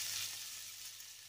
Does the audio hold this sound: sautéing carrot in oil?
yes